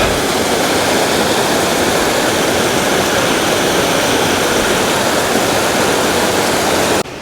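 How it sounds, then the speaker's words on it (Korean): Bridal Veil Falls, a waterfall near Vancouver, pours into a stream with a loud, constant broadband roar of rushing water that stops abruptly at the very end. "예, 계곡의 물이 시원하게 흘러내리고 있습니다."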